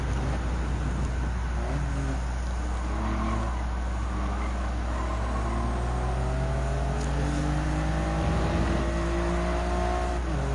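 Toyota GR Yaris race cars in Gran Turismo 7 on Sardegna's B course: a steady, droning engine note climbing in pitch as revs rise, loud and continuous, with no talk.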